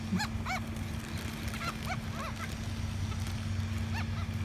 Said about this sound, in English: Squawk, seagull noise.